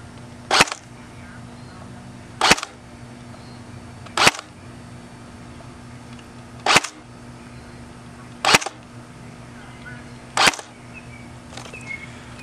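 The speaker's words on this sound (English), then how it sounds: "Alright, now we're going to show you what the FPS is like with the .28 gram BB." Classic Army P90 Sportline airsoft electric gun firing .28 gram BBs at about 290 FPS: six sharp, loud single shots spaced roughly two seconds apart over a steady low background hum.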